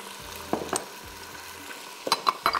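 Boiled spinach being sautéed in a pan with ginger garlic and chili paste for achari biryani, with a soft steady sizzle and a few clinking stirs of the spoon against the pan, close and without talk.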